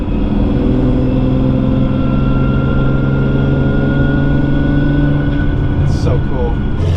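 Steady cabin drone of a Ferrari's exhaust and drivetrain at cruising speed with the windows up, a constant low rumble with tonal whine, briefly interrupted by a short voice near the end.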